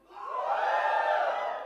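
An indoor audience at a POCO X2 phone launch event in India bursts into a loud, sustained cheer and shouting that swells and holds for over a second without any talk.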